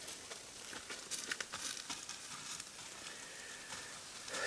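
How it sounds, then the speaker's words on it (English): Snow falls in the woods during a deer stand outing, a faint, continuous fine crackling patter with no voices. "It's snowing. You can hear it."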